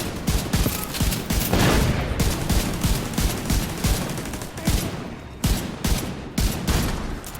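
Rapid bursts of automatic gunfire from an enemy turret in The Division 2, loud and close, with sustained fusillades broken by short pauses and sharp individual shots.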